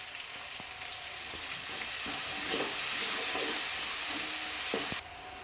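Mustard seeds, curry leaves and green chili paste sizzle loudly in hot oil, a close, steady crackling hiss with occasional pops and spatters that cuts off near the end.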